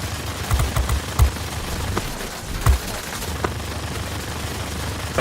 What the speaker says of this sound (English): those 50 cals, as you can see, really rip into other bombers